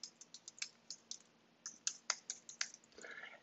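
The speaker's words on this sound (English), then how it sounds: "So I'm going to type in" Fingers tap quickly on a computer keyboard, a close run of light, uneven clicks with brief pauses, heard alone without speech.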